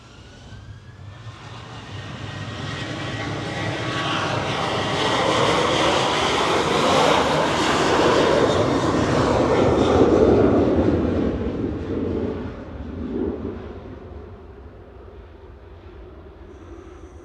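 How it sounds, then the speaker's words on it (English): A Ryanair Boeing 737-800, registration EI-DCP, departs Manchester Airport on flight 4088 to Faro, a jet roar swelling from distant to loud overhead and slowly fading away, heard alone from a spotting position. "Flight 4088 heading out to Faro with Ryanair, EIDCP 737-800."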